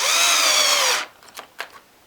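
A power drill whirs loudly and steadily for about a second while driving a screw into wood, countersunk after pre-drilling, on a bee-trap build, then stops, followed by a few faint knocks and clicks.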